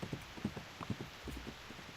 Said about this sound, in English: The horse carries the two knights deep into the forest.